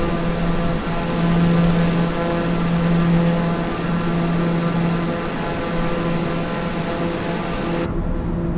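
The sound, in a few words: Citation X jet aircraft engine in a flight video game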